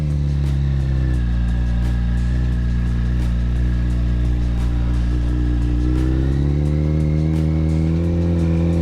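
A 2008 Yamaha FZ1 motorcycle engine idles and hums steadily at low revs while riding slowly in the clutch friction zone, close and continuous, with a slight rise in engine pitch near the end.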